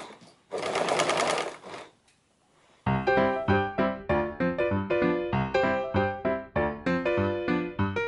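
A sewing machine stitches a cloth face mask in fast, evenly spaced mechanical pulses that run steadily and close for several seconds after a brief rushing noise, with no talk.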